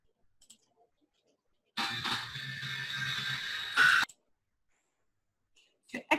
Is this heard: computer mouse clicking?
yes